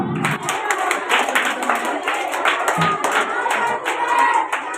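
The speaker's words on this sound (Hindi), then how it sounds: "इस बिटिया के लिए जोरदार तालियां" Enthusiastic applause for a girl receiving a wristwatch as a prize at a school talent award event, a steady crowd of hands clapping continuously throughout, fairly close and loud with no speech over it.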